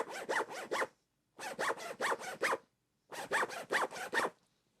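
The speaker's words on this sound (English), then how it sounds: "Shall I use my pencil case zip for that one like I did last week?" A pencil case zip is zipped back and forth in three quick bursts of about four to five strokes each, with short pauses between, close and fairly loud with no voices.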